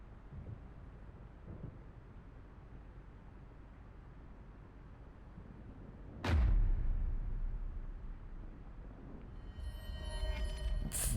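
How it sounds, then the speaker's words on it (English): Fireworks in the video game AI: The Somnium Files: a sharp, loud burst cracks out midway through a steady low rumble, followed by a lingering roar and faint crackling sparkles near the end. "Date, do you like fireworks?"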